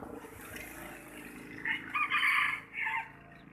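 A rooster crows outdoors during the rainy season, its call rising out of steady low background noise in a loud, strained burst lasting about a second and a half, then tapering off in a final shorter phrase.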